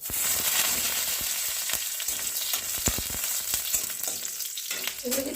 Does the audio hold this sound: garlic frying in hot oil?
yes